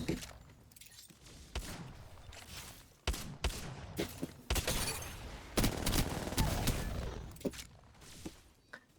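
Bursts of gunfire ring out in Apex Legends as a player moves around, with sharp shots and rapid volleys mixed with footstep-like clatter, fairly quiet overall with no talking.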